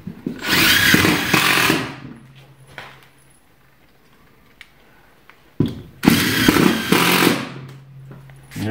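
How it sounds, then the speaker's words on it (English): Power drill driving screws through a wood nailer into a metal stud track during wet bar framing, two loud bursts of whirring separated by a quiet pause with faint clicks. "And we just screw it down to the track out here."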